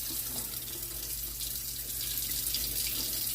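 Tap water runs steadily into a sink for watering coleus cuttings, a constant close hiss and splash with a low hum underneath and no voices.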